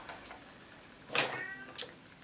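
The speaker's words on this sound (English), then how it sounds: "See, I told you the cat wants back in already." A cat meowing to be let back inside, two short, fairly faint cries a little way off, the first a drawn-out meow and the second briefer, with quiet room tone between them.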